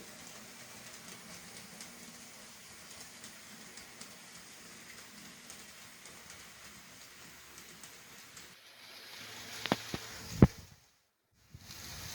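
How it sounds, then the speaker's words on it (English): Southern Pacific train rolling along the Brooklyn subdivision, a steady broad rumble of wheels and cars, moderately loud and continuous, swelling with a few sharper clanks near the end before cutting off. "One of the more unusual trains to roll down the Brooklyn sub."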